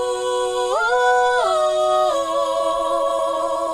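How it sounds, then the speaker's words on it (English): A sustained sung vocal line with reverb applied during mixing in FL Studio, its held notes sliding between pitches and trailing off in a smooth wash. "Now with the reverb"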